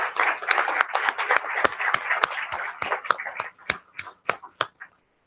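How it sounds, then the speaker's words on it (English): A crowd at a school district board meeting applauds with dense, steady clapping that thins out toward the end into a few scattered claps before stopping. "Please join me in one last round of applause for these volunteers"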